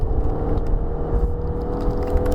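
A 2019 Hyundai Santa Fe with a 2.4-litre engine drives along, its steady low engine drone and road rumble filling the cabin continuously, without distinct shift events.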